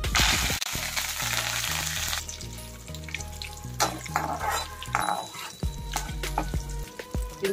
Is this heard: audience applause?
no